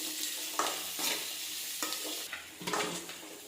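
Two chopped medium onions sauté in a pan for sorakai masiyal, a steady close sizzle broken by repeated scraping stir strokes.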